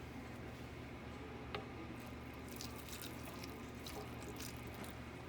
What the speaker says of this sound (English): And some of the pasta water.